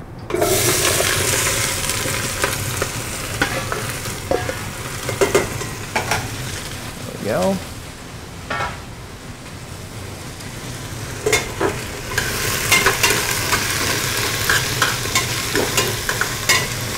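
Steamed vegetables sautéing in olive oil in a single pot, a continuous close sizzle with frequent stirring scrapes and clatters, fairly loud, with a brief watery hiss in the middle and no voices.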